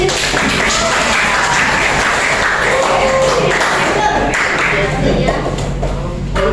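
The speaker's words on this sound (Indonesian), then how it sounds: "berarti beri aplaus untuk diri sendiri" A school class claps for themselves in a classroom, a dense continuous patter of hands mixed with chatter and voices talking throughout.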